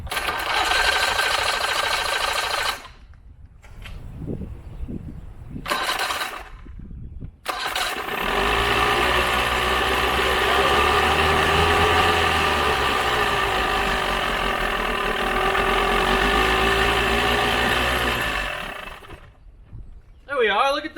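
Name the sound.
1982 Mercury 40HP outboard motor starting and running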